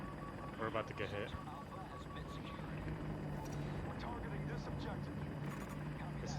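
An enemy helicopter in the video game Battlefield 2042 keeps up a steady rotor and engine drone throughout, with voices talking over it and an alert voice announcing it.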